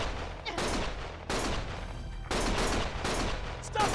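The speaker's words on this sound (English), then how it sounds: "Stop shooting!" Gunfire in the video game Lost Judgment comes as loud, close bursts of rapid shots, in three or four volleys with brief gaps.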